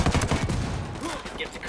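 Rapid gunfire bursts in the shooter Ghost Recon Wildlands, dense and loud at the start and thinning toward the end, with other battlefield noise mixed in.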